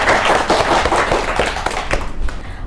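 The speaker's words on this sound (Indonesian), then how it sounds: "Beri tepuk tangan untuk kelompok 2." A classroom of students applauds a student group, dense close hand clapping from many people that holds steady and then thins and fades out toward the end.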